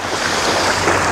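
Sea waves wash onto a beach at Anapa after a flood, a steady broadband surf wash with wind noise on the microphone, loud and continuous with no talking.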